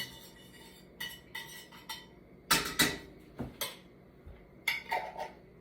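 A metal utensil clinks and taps against a pan while minced garlic is stirred, making a series of short, sharp knocks and scrapes at an irregular pace, fairly faint and close.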